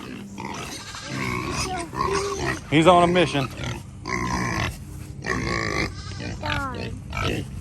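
A pig grunts on a farm, rough snorting bursts in a short series, with someone talking over and between them.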